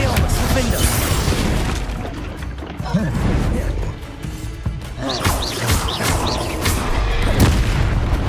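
Confringo fire-blast spells in the video game Hogwarts Legacy boom repeatedly amid crashing combat impacts, loud and continuous, while a voice calls out over the fight.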